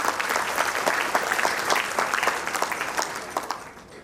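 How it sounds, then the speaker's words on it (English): Audience applauding after a recital at a school annual day, a full burst of clapping that stays dense and lively before thinning slightly at the close. "Let's give a big round of applause to our Didi for their wonderful recital."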